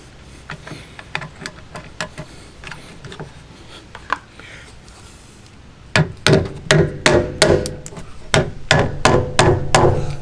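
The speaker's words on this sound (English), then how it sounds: "you just tap them in with a rubber mallet" A rubber mallet taps plastic pins into the mounting points of lighted running boards on a 2022 Chevy, with a few sparse knocks followed by a rapid, loud run of close, sharp hits.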